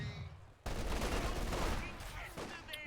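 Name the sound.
50 cal machine gun firing, from a video game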